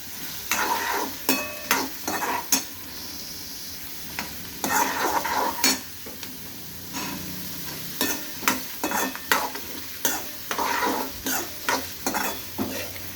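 Chopped onion frying in a pan for fodni bhakri, with repeated bursts of scraping stirring over a soft steady sizzle, close and fairly quiet with short pauses between strokes.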